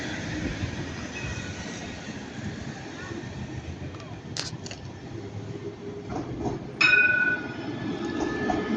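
A line 3 tram departs in Nice, with a continuous rolling rumble, a few sharp metallic squeals from the wheels and a rising hum as it moves off, while voices speak faintly underneath.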